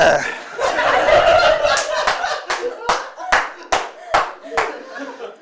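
A stand-up comedy audience bursts into applause and laughter, a loud, dense round of clapping that thins out into a few separate, evenly spaced claps before fading.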